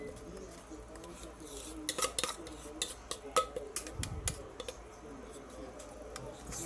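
Cornbread batter goes into a big metal baking pan, with clinks, knocks and scrapes of pan and utensils coming in scattered bursts at moderate loudness, no talking.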